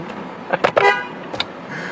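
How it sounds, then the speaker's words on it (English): A short car horn toot rings out close by on Staten Island, New York City, over low traffic rumble, followed by a brief fainter blip. "There's a Staten Island honk, isn't there?"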